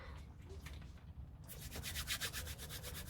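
An airsoft hop-up bucking from a Nuprol Pioneer Defender M4 AEG gets rubbed around in alcohol solution, a faint wet scrubbing that turns into a steady, rhythmic swishing in the second half, close and quiet.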